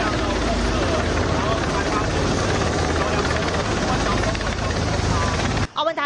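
From inside the cockpit of a rescue helicopter flying over the flood- and landslide-hit Aowanda forest area in Taiwan, a loud, constant rotor and engine roar fills the clip, with a voice speaking over it before it cuts off.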